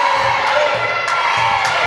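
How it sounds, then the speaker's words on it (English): A crowd cheers and shouts steadily in a gym during a girls' junior varsity volleyball semifinal, with children's voices and whoops rising over a dense, moderately loud roar of noise. "You hear everybody cheering Haley's name."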